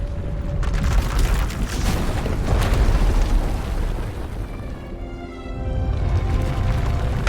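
Vaylin's power erupting in a massive explosion that destroys the asylum in the game SWTOR, a loud, deep rumbling blast with crackling bursts that swells, dips briefly, then roars back.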